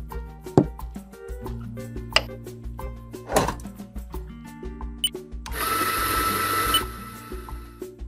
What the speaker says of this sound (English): First, put the rose petals in the blender.